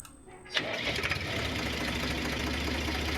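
A video game vehicle engine turns over and settles into a steady, throbbing idle that continues loudly and evenly after the start.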